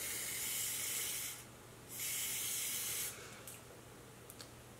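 Makeup setting spray hisses in two short bursts onto the face, close and soft, with quiet pauses between.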